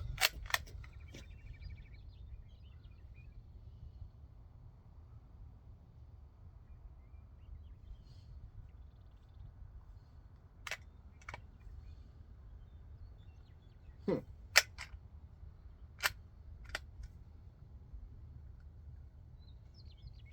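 Sharp cracks from a Sears J.C. Higgins Model 43DL .22 rifle, a few quick shots at the start, then sparse, irregular single reports spaced seconds apart over a quiet background.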